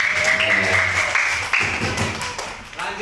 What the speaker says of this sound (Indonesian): Tepuk tangan dulu untuk Mas Agung ya.